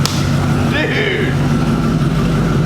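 A wrecked auction muscle car idles with an exhaust leak, a steady low rumble filling the whole stretch, close and loud, while a person talks over it.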